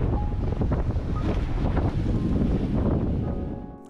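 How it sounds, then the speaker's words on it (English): Strong wind of around 30 knots buffeting a sailboat at sea, heavy roaring gusts and microphone rumble with wave wash beneath, loud and close, easing slightly at the end. "That afternoon, the wind picked up to 30 knots and we hadn't reefed the sails."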